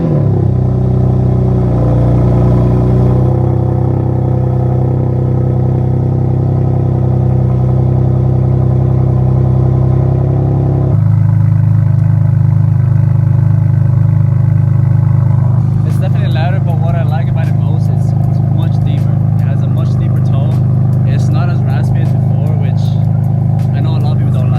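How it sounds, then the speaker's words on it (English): A BMW F82 M4 with an S55 engine and equal length midpipes cold starts: a loud, continuous idle that steps down partway through to a smoother drone, with some clatter near the end. "Let's get a cold start with the new mid-pipe"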